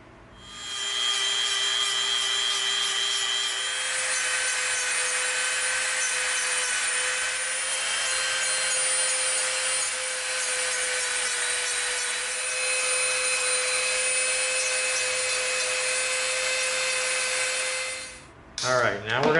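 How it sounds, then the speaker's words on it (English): A Dremel rotary tool grinds down the edge of EVA foam, a steady high-pitched whine with a gritty abrasive rasp that runs almost without a break before stopping abruptly near the end. "we're gonna Dremel this whole edge off to where this all comes to a peak"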